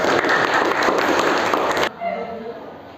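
A classroom of students claps loudly and briskly for a couple of seconds, then the applause stops abruptly and a voice follows.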